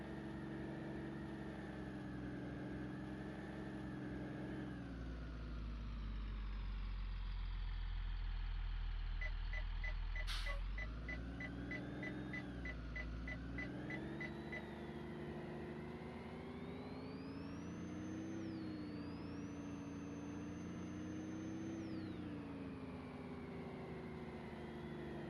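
A Blue Bird A3RE school bus engine idles, droning and shifting in pitch, rumbling low and steady with a faint high whine, heard from inside the cab.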